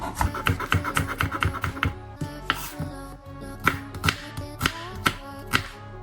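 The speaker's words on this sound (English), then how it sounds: "I'm gonna chop my onion." A knife chops an onion on a cutting board for fried rice, a quick run of crisp, close taps followed by slower, spaced strokes, with no talk.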